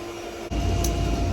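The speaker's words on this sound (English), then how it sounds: "finally I got the dryer to start." Coin-operated clothes dryer at a laundromat in the south of France kicking on: a quiet hum abruptly gives way to a louder, steady low drum rumble, with a brief higher clack shortly after.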